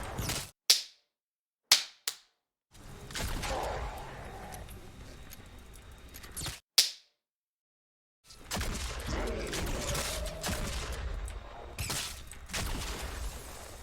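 Vindertech Disintegrator, a hybrid shotgun-launcher in Fortnite Save the World, fires several sharp, loud cracks spaced apart, each cutting off into silence, with bursts of game noise between them.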